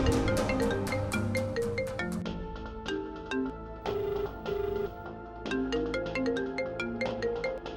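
A telephone ringtone plays continuously throughout as a bright, repeating melodic chime, loud and close, in a domestic scene from an Odia TV serial; no talking is heard.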